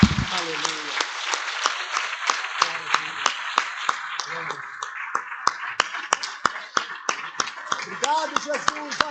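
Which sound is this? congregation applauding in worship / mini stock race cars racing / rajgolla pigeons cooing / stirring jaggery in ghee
congregation applauding in worship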